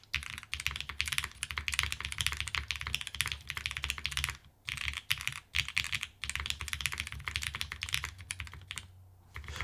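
Typing on a Juna mechanical keyboard gives rapid, close, crisp key clicks in a dense stream with a few brief pauses.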